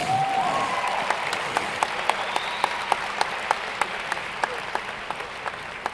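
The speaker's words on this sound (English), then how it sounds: "You all deserve a round of applause" An audience at a university graduation rite of passage ceremony applauds steadily, a broad wash of clapping with a few sharp, regularly spaced louder claps standing out close by.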